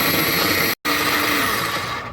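A small cheap electric food chopper processes chopped onions with a loud, close, steady motor whir, briefly cut off for an instant before running on and slowly easing.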